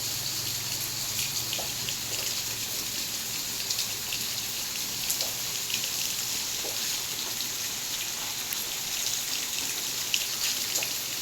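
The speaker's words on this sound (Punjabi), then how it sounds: "ਮੀਂਹ ਬਹੁਤ ਜ਼ੋਰ ਨਾਲ ਪੈ ਰਿਹਾ ਦੇਖੋ" Heavy morning rain of the rainy season pours steadily with some wind, a thick continuous hiss of drops with occasional sharper splashes close by.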